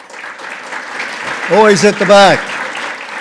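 Audience applause fills an opening gala as names are read out, a steady wash of clapping running throughout while a voice speaks over it, swelling slightly toward the end.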